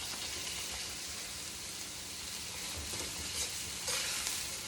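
A pan over a high flame gives a steady, bright stir-fry sizzle, continuous and close, with the scrape of stirring and a few louder hisses near the end.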